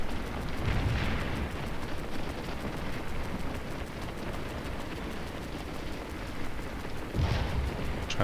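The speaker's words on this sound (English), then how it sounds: "Try and position my camera so you can see the effects of artillery fire. You see the explosions there." Artillery fire in the Civil War game Scourge of War at McPherson's Ridge, heard as a steady rumbling bed of distant battle noise with two louder booming bursts near the start and end.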